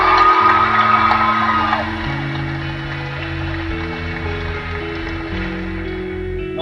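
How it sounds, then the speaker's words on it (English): Commencement crowd at Bellows Free Academy cheering and whooping, loud and dense for the first two seconds, then easing into a lower steady roar over sustained tones. "You can cheer louder."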